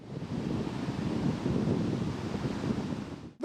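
Strong wind gusts buffet the microphone at a seaside beach, a loud, steady roaring rush with a low rumble throughout and a sudden drop at the end, no talking.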